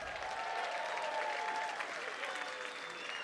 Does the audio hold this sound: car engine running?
no